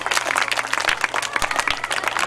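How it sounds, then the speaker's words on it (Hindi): Audience applause at a Defense Day of Pakistan ceremony honoring Nishan-e-Haider recipients: a dense, sustained crowd clapping that fills the whole stretch at steady loudness, with no talk over it. "एक बार जोरदार तालियां हो जाए उनके लिए।"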